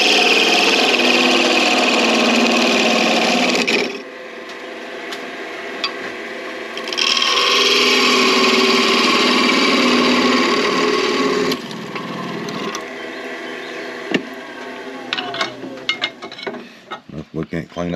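A belt sander grinds and rubs against a wenge wooden dowel for a turkey box call, running loud in two long bursts separated by quieter stretches, then clattering handling at the end.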